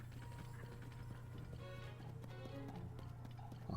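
A skeleton horse's hooves clip-clop in Zelda: Tears of the Kingdom in a rapid galloping rhythm, mixed with clanking mechanical game sounds over a steady low hum.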